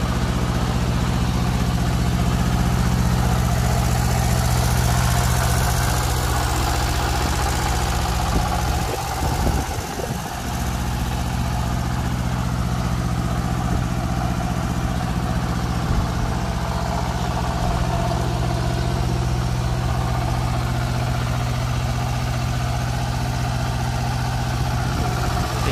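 A used Japanese rice thresher's two-cylinder diesel engine idles steadily at close range, a loud continuous low rumble with a brief dip in the middle and no voices.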